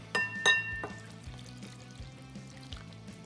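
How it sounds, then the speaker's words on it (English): Water, one cup, pours and trickles softly into a bowl of cake batter ingredients, with a few light clinks at the start and a quiet, intermittent dribble afterward. "And then last, 1 cup of water."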